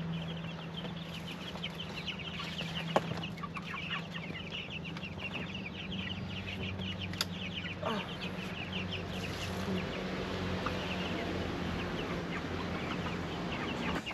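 Backyard chickens cluck and chatter continuously in the background, a steady moderate flock noise with occasional louder calls and no speech.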